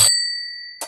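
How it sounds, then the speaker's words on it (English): A single bright notification-bell ding strikes sharply and rings on as a clear sustained tone that slowly fades, ending with a short burst of noise. "hit that notification bell"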